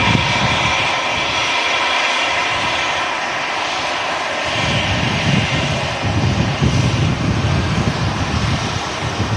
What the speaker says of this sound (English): There's an EasyJet A320.